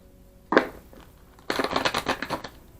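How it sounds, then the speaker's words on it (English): Tarot cards being shuffled by hand, a short riffle at first and then a longer run of brisk, crisp card flutters, close and fairly loud with no talking. "So I'm going to shuffle the cards on camera."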